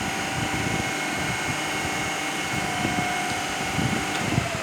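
A DC shunt motor runs steadily with a constant mechanical hum and whir, as in a motor braking-by-plugging test setup, with no clear stop heard in this short stretch.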